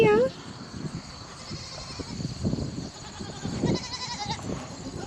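Goats at a farm in breeding season, with a brief high bleat at the start followed by lower animal calls and shuffling close by, while people talk over much of it.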